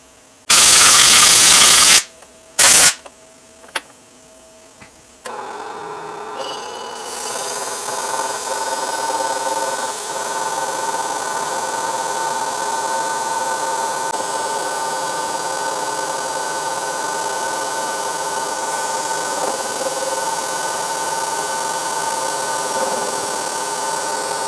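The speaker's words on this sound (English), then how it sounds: "we'll just have to finish that with the bandsaw" A bandsaw cuts through a skid steer part, a steady close whining drone that runs for about twenty seconds after a few loud, sharp bangs at the start.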